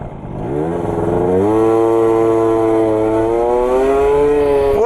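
A tuned motorcycle accelerates hard along a short straight, its engine note climbing steadily and loudly close by for several seconds, rising in pitch through the run with no voices over it.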